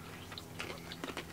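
Crunchy bites into a Little Debbie ice cream bar, a few short crisp crackles spaced over about a second, close and fairly quiet, with no talking.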